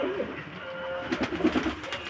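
Large pigeons coo at close range, a few low rolling coos overlapping in the second half, with quiet background murmur.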